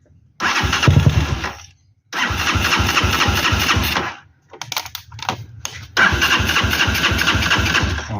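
A Rusi SSV200 motorcycle engine, just given a top overhaul with new 7.2 lift cams, cranks but will not start. The starter grinds in three loud, close bursts with short pauses between them.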